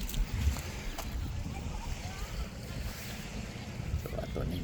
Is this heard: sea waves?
yes